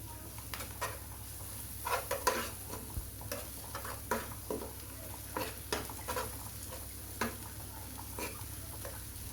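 Spices with salt, cumin powder and ginger-garlic paste fry quietly in a pan for a bitter gourd dish with prawns and potato. A soft, steady sizzle sits under repeated scraping stir strokes that come in an irregular rhythm.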